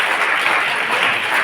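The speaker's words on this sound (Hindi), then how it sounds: "तो जोरदार ताली बजाएं खाना बनाने वालों को" Students and staff clap loudly for the cooks at a government higher secondary school event in Nagaur, Rajasthan, a dense, even burst of applause from nearby.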